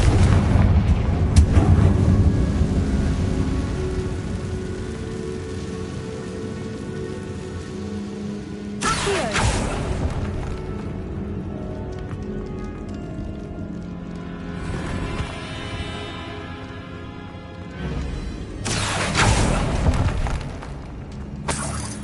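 Confringo blasting spells explode in the Hogwarts Legacy video game, with heavy rumbling bursts at the start, around nine seconds and near eighteen seconds, each decaying into a crackling, rain-like debris wash.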